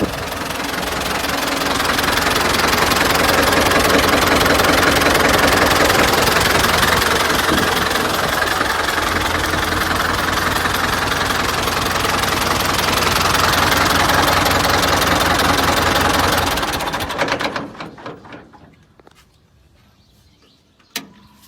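A Ford 6600 tractor engine idles loud and close with a steady, rough diesel rumble for about seventeen seconds, then shuts down and fades to near silence, ending with a single small knock.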